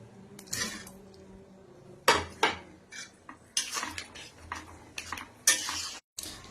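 Pakoras tipped into thickened chili chicken sauce in a pan, with scattered clinks and scrapes of a spoon against cookware and soft stirring in between, close by and without talk.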